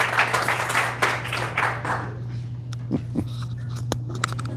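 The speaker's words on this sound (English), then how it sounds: "Give him a round of applause to Mr. Quintero." Applause from a small audience at a school coffee-and-conversation meeting, filling the first two seconds and then thinning into a few scattered claps and taps over a steady low hum.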